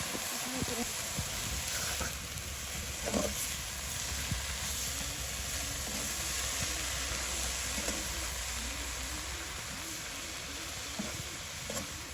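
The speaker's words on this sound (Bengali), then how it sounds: "এখানে ইচা মাছগুলো ভাজা ভাজা হয়ে গেছে, এখন শাকগুলো দিয়ে দিলাম।" Greens tossed into a pan of small river fish already fried in oil for a village-style home dish, giving a continuous sizzle with occasional stirring scrapes and soft knocks, plus steady background noise throughout.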